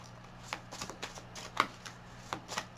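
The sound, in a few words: shuffling tarot cards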